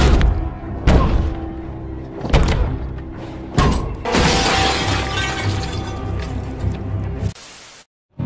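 Window glass shattering as a head is smashed into it in a horror film scene, with heavy thuds and a long crashing spray of breaking glass that rings out loudly before cutting to silence.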